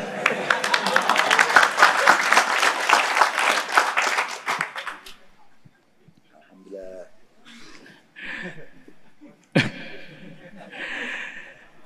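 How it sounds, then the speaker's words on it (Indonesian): Audience clapping at a religious talk by a preacher swells for about five seconds, then dies away, followed by scattered voices, chuckles and a sharp knock in the quieter room. "terima kasih yang udah memberi tepukan"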